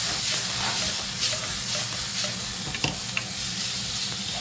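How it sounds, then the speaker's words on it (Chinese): Shredded radish with ginger, garlic and dried chilies is stir-fried over high heat, producing a loud, dense sizzle with steady tossing scrapes and a couple of sharp clinks from the utensil. "大火翻炒"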